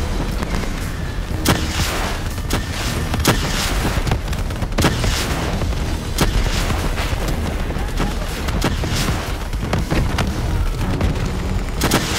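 Call of Duty Black Ops 3 combat: dense, loud gunfire and booming explosions in rapid, continuous bursts, with game character voices mixed into the din.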